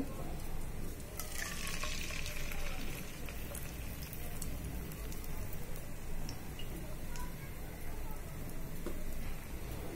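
Eggs frying in hot oil on a stove, a steady, moderately quiet crackling sizzle with scattered pops that runs throughout.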